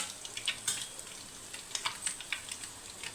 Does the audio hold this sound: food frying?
yes